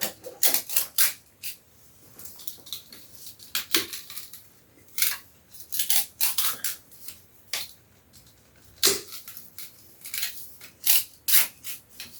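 Basket-weaving cane is split lengthwise into four strips, giving sharp, crackling rasps in irregular clusters, close and fairly loud, with no talking.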